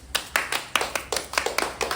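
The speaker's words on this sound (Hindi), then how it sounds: "लीजिए तालीमात दीजिए।" An audience claps at a village panchayat Independence Day gathering, roughly ten sharp, fairly regular claps close by, without voices.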